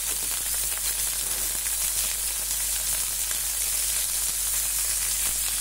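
Surimi crab sticks fry in hot oil with a continuous, bright sizzle and crackle, steady and fairly loud from start to finish, no voices over it.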